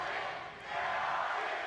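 Esports arena crowd at the Valorant Champions 2023 event in Los Angeles, a steady wash of distant cheering and roaring from a large audience, swelling slightly midway.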